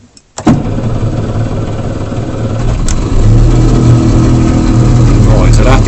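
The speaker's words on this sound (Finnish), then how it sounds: "se lähtikin eka startilla käyntiin sitten" A small engine with the choke set cranks and fires on the first pull, then settles into a loud, steady running drone, close by.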